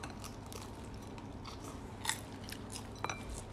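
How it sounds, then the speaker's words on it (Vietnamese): Someone bites into a shrimp cake, a central Vietnamese specialty, and chews it. The crunches are faint and close-up, with a couple of sharper crackles standing out over a steady, quiet background. "Để cắn một miếng coi nè"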